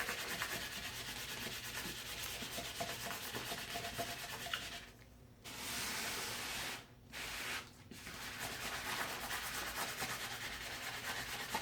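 Material is scraped by hand onto a wooden front porch welcome sign, making a close, continuous rasping scrape with a few short pauses between strokes.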